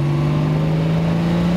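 A Jaguar E-Type engine running close by, a steady, loud mechanical hum with strong sustained low tones and an even drone that does not break.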